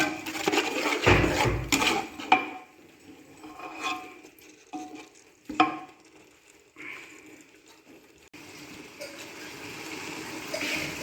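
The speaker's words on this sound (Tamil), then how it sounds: "அது கூட புதினா கொத்தமல்லி தழை ஆட் பண்ணிக்கிங்க. இதையும் சேர்த்து நல்லா வதக்குங்க." Mint and coriander leaves sizzle as they are stir-fried in a pan for chicken biryani, with an irregular hiss broken by spoon scrapes and clatters, close and fairly quiet, with no talking.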